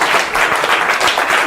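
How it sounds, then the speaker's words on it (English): A brief burst of dense audience applause at a mentalism show, steady and close, filling the whole moment with no talk. "Give her a round of applause, please."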